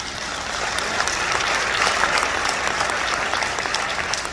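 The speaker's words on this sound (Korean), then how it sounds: "이게 박수 칠 상황이 아니에요" Audience clapping at a lecture in Daegu, a steady dense wash of applause from a sizable crowd that stays loud and even throughout, with no speech over it.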